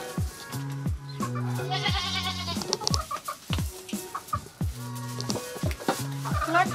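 Goats bleat and chickens cluck on a farm, several animals calling close by in overlapping bursts, with bleats recurring steadily throughout.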